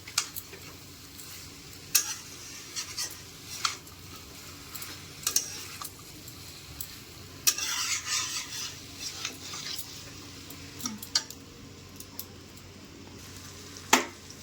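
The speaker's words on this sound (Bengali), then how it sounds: "আর এটা কিন্তু আস্তে আস্তে ঘাটবেন একটু, না হলে কিন্তু লেগে যেতে পারে" Mixed vegetables frying in a pan over low heat, stirred slowly: a soft continuous sizzle with intermittent scraping strokes and occasional sharp clinks of the spoon on the pan, close up and without speech.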